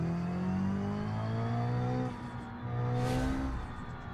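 A racing car's engine in the RLS Career Mod racing game revs steadily and loudly, its pitch climbing in long sustained sweeps with a brief dip partway through, holding close and continuous with no talking.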